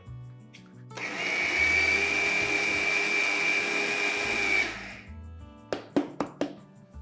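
An electric mixer grinder blitzes spicy gunpowder chutney podi, a loud steady whirring roar for about four seconds that cuts off, followed by several sharp metallic clinks of the jar.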